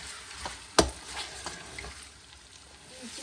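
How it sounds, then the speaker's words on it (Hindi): Chicken frying over high heat in a pan with lemon juice just added, a soft steady sizzle with one sharp clack of a utensil near the start and light stirring scrapes after. "और अब इसको भूनेंगे तेज़ आंच पर 5 मिनट के लिए भून लेना।"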